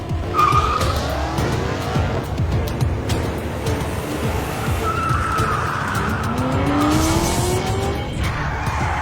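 A race car drives fast with its tires skidding and squealing, engine roar and repeated rising tire squeals loud and continuous throughout, with no voices.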